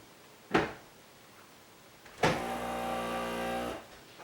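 Krups Sub Compact beer machine purging: a sharp mechanical clunk, then a second clunk followed by a steady motorised hum lasting over a second before cutting off, close and fairly loud.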